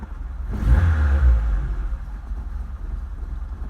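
Project car engine starting without choke, one quick revving surge that settles into a deep, close, rumbling idle.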